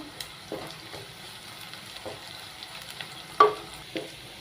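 Green chillies and curry leaves sautéing in a pan over a low flame for an avoli (pomfret) fish curry, giving a soft, steady sizzle broken by a few light stirring scrapes and one sharper clink near the end.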